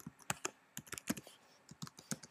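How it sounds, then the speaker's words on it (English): Quiet keystrokes on a computer keyboard as a password is entered, a short irregular run of crisp clicks close to the listener. "so I'm just going to type in my password."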